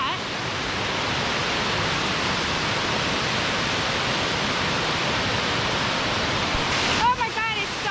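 Steady, dense roar of a waterfall at Los Campesinos, Costa Rica, fills the whole clip, broad and unbroken, with a brief shaky rustle near the end.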